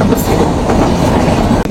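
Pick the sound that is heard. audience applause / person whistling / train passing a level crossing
train passing a level crossing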